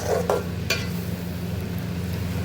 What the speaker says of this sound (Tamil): கொஞ்சம் குடல் வந்து வெடிக்கும் டப் டப்புன்னு கிண்டி விடும்போது